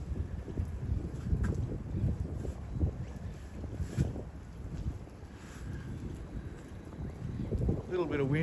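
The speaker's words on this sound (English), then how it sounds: "A little bit of wind there." Storm wind gusting on the Gold Coast, a steady low rumbling roar with buffeting against the microphone that rises and falls throughout.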